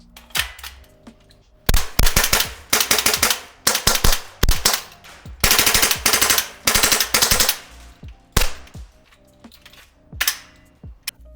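A Colt Canada L119A2 airsoft rifle fires in sharp, close bursts of rapid cracking shots, some long strings and some short groups, separated by brief quiet gaps, with no voices.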